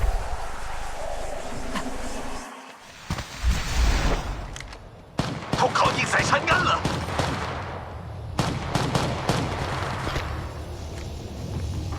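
Gunfire in the mobile shooter Apex Legends Mobile, loud bursts and rapid volleys with sharp reports, set against a dense game soundscape and occasional in-game voice callouts.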